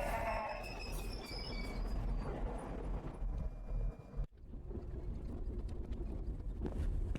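The ghost train in the video game The Ghost Train rumbles steadily along with a low rolling drone and rattling, broken by a sudden brief cutoff before the running noise resumes.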